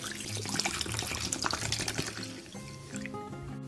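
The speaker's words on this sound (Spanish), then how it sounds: "500 mililitros de agua en una olla." Water pours steadily into a cooking pot holding sliced ginger and ground coffee, a close, continuous splashing and filling sound with no talking.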